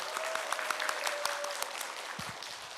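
Audience applause at a Daejeon child care policy forum, a few distinct claps building into a moderate, steady round of clapping in a hall, fading slightly toward the end.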